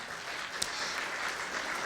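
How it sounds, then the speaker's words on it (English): Audience applause at a Hamilton community event, a steady wash of many hands clapping at moderate level throughout, with one sharper clap standing out near the middle. "let's give them a round of applause"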